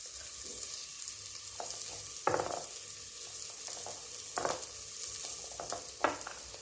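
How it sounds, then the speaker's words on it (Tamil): Tomato rasam ingredients with turmeric and salt sautéing in a pan, a steady close sizzle with a few louder scraping stirs at intervals, no voices. "நல்லா போட்டு வதக்கிக்கலாம்."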